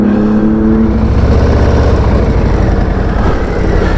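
Harley-Davidson Low Rider ST motorcycle engine running on a test ride, a loud, steady, deep throb with a rising rev early on, heard up close and without talk.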